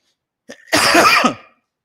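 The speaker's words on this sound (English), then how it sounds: "Excuse my cough. It's just not going." A single harsh, close cough, preceded by a brief catch of breath, then silence.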